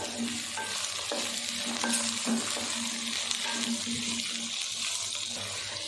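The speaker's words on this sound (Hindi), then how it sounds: "ये डाल देंगे और मीडियम आंच पे हमने इसको फ्राई कर लेना है।" Inch-long pieces of okra fry in a pan over a medium flame with a soft, steady sizzle. Occasional stirring scrapes and light clinks sit over a faint low hum.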